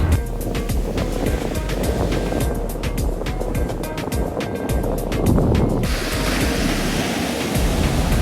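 Waves wash onto the shore at Wrights Beach as a continuous broadband roar of surf, with gusty wind noise mixed in and a slight change in texture near the end.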